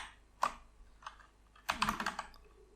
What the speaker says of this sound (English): and then I will type yes, enter